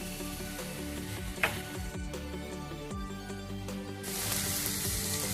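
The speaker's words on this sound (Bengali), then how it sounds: "সর্ষে বাটাটা দিয়ে একটুখানি ভাজবো" Mustard paste fries in a pan for a drumstick-flower chorchori, a steady close sizzle with a few scraping stirs, the hiss swelling louder toward the end.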